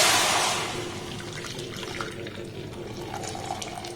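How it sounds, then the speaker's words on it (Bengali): Liquid splashes as a litre of milk pours into a lightly heated wok on a stove: a close, steady gush with a louder onset that settles into a continuous pour. "এর মধ্যে গরম করে জাল দিয়ে না 1 লিটার দুধ দিয়ে দেব।"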